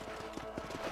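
Horse hooves clip-clop in a steady rhythm in the Red Dead Redemption video game, quiet and even over a low ambient background.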